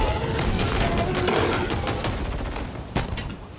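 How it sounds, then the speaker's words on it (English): Rapid gunfire in Halo Infinite crackles in a dense, continuous burst close up, with a sharper blast near the end, and someone speaks briefly over it. "I hate the rapid fire."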